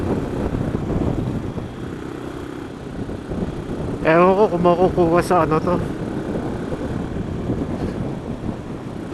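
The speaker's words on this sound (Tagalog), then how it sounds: "Grabe yung hangin. Lakas." Strong wind gusts through trees at Sampaloc, Tanay, a steady broadband roar that swells slightly in the middle while someone talks over it throughout.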